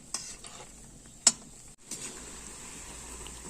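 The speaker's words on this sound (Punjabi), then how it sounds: "ਆਪਾਂ ਇਹਨਾਂ ਨੂੰ ਉਨਾ ਟਾਈਮ ਤੱਕ ਫਰਾਈ ਕਰੀ ਜਾਣਾ ਜਿੰਨਾ ਟਾਈਮ ਤੱਕ ਇਹਨਾਂ ਦਾ ਕਲਰ ਹਲਕਾ ਬਰਾਊਨ ਨਹੀਂ ਹੋ ਜਾਵੇਗਾ" Pieces of shakkarpare dough fry in hot oil with a steady sizzle, while a utensil stirs them and clinks sharply once against the pan, with no voices.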